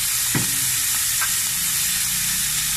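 Fish (biskado) sautéing in a hot pan, a steady broadband sizzle throughout with a brief stirring clatter near the start, close and fairly loud, no talking.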